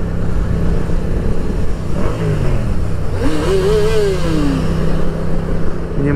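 Yamaha MT-07 motorcycle on a test drive, its engine revving up through rising pitch sweeps over a constant road rumble, close and loud.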